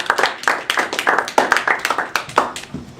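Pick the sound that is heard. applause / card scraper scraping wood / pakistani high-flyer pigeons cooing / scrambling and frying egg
applause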